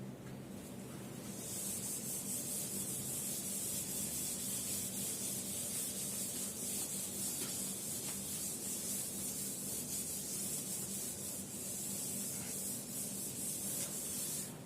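Chalk or a duster being rubbed across a classroom board to erase writing, a steady dry scraping that continues almost without pause, close and fairly loud, with no talking over it.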